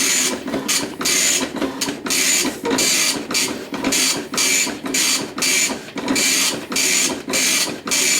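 A Panasonic KX-P1524 wide-carriage dot matrix printer chatters loudly in repeated bursts, each pass a harsh buzzing rasp separated by brief pauses as the head travels back and forth, printing in both directions.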